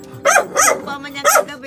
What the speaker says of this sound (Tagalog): Ay, maingay ang aso.